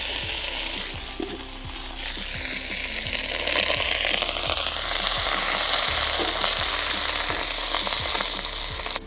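Curry leaves frying in hot oil give a loud, steady, dense sizzle with crackle, and a few stirring scrapes clatter through it.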